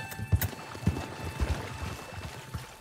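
Horse hooves clip-clop at an uneven walking pace in the Red Dead Redemption 2 video game, with distinct thuds spread across the moment and a faint steady hum underneath.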